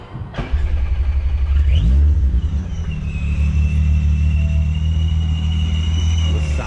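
A VR6 car engine at a car show rumbles loudly up close, revving up sharply then settling into a deep, steady idle with a faint whine above it.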